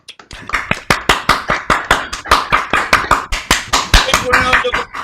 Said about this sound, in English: Everyone, all the participants, a big round of applause.